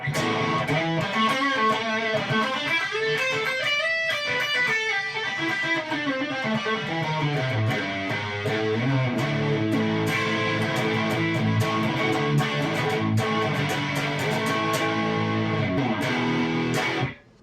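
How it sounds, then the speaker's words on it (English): An electric guitar played through a J Rocket Audio Designs The Dude distortion and overdrive pedal, via an Xvive P58 wireless system, rings out in driven chords and melodic lines for about seventeen seconds, loud and continuous before stopping abruptly. "So I'm gonna be playing through the J Rocket Audio Designs The Dude. It's a distortion and overdrive pedal."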